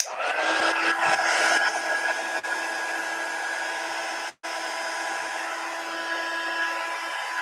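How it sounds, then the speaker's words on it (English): Heat tool blowing hot air to heat tape on watercolor paper: a steady, loud hairdryer-like whoosh with a high whine that runs continuously, cutting out for a split second twice before resuming. "let's heat up the tape"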